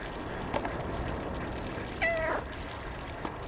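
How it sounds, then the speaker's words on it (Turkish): A single short cat meow from the video game Stray, clear and slightly synthetic, rises over a quiet background hum with a faint trickle. "Ya senin miyavlamını yerim."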